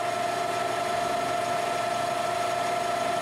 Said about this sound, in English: Raise the RPM using a vertical shear cutter just to see the difference in finish.